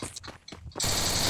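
Automatic gunfire from a gun in a video game: after a short, quieter choppy lead-in, a loud, dense burst of rapid continuous fire starts abruptly and holds steady to the end.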